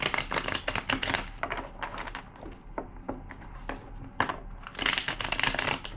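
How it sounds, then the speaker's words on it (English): Dense rapid riffling and snapping of cards being shuffled, close and busy, in quick bursts with brief lulls between. "Two more shuffles."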